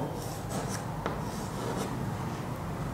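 Chalk or marker moving across a classroom board in short strokes and taps, a soft scratchy rubbing over a steady room hum.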